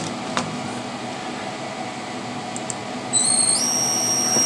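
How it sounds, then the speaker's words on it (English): A machine spindle starts up at 200 rpm. A steady mechanical hum runs at first, then a sharp high whine kicks in partway through and holds on close and steady. "What I'm going to do is I'm going to turn the spindle on"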